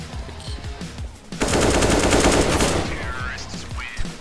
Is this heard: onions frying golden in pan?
no